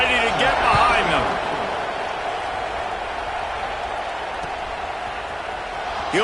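Football stadium crowd roaring steadily before a kickoff, a broad, sustained wash of cheering that swells slightly at the start and then holds level, with a commentator's voice briefly over it early on.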